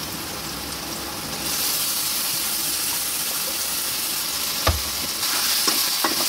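Masala paste sizzling loudly in hot oil with onions while a spoon stirs it, a steady dense frying hiss with a few sharper scrapes near the end and no talk.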